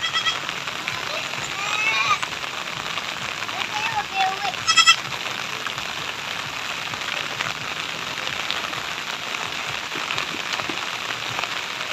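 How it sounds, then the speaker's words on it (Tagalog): Goats bleat a few times in the distance amid steady typhoon rain pattering on a surface; a voice is faintly present. "umuwi na pala mga kambing"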